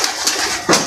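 A pigeon, apparently a ringed racing pigeon, coos close up in short, soft throaty bursts, loud and clear with no talking.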